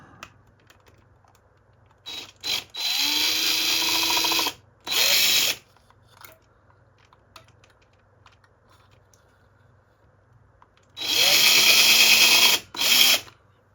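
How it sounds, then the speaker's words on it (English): A cordless drill pre-starts screw holes in a homemade pine guitar body, running in several bursts of a few seconds each, whining up and stopping, with quiet pauses between and one long run late on. "And I'm going to take my drill. I'm going to pre-start my holes for the screws."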